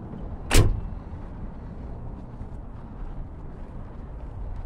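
A single sharp car door slam near the start, loud and close, followed by steady low rumbling background noise from a parked car outside a Jersey Mike's sandwich shop.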